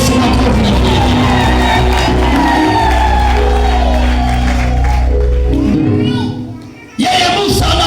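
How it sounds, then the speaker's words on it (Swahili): A church congregation claps and cheers for Jesus during a Swahili service, their noise layered over loud music and a preacher's talking. The crowd sound stays dense and continuous, drops away briefly near the end, then swells back. "Mtambie Yesu makofi na kujibu"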